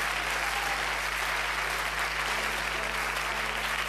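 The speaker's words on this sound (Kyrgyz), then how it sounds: "азаматсыз кол чабуулар сизге" Close, dense applause from an audience at a live Kyrgyz song performance carries on evenly and loudly.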